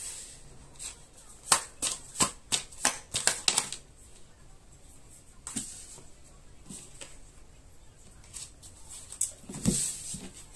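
Tarot cards being shuffled during a reading: a quick run of crisp, close riffling snaps early on, then scattered softer card flicks and slides, with one louder rustle near the end and no talk.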